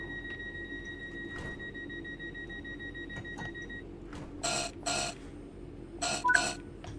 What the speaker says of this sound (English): I'm shutting the doors now